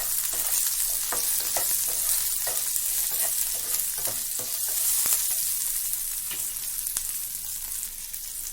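Green chillies sizzle steadily in a pan with salt just added, a constant frying hiss broken by repeated scraping stir strokes, close and fairly loud with no talking.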